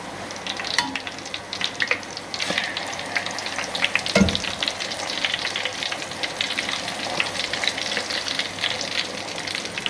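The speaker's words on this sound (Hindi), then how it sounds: "यहाँ पे आपने पूरी बेल के इस तरह आराम से कढ़ाई में डालनी है। ऑयल आपका अच्छे से गर्म होना चाहिए।" Puri deep-frying in hot oil in a kadhai gives off a dense, bubbling sizzle, with a sharp clatter partway through, and no voices.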